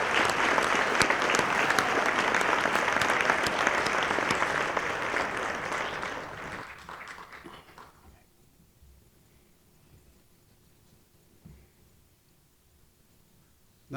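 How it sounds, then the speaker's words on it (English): An audience at a city State of the City ceremony claps in loud, sustained applause that fades out over several seconds into near silence. "Let's give a round of applause to all those individuals who have served the city for 5 years"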